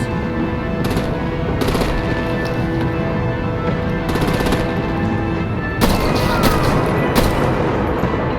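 Sustained artillery and rapid gunfire in a Batman: The Enemy Within game scene, a dense continuous barrage with bursts of crackling shots that grow louder and sharper toward the end.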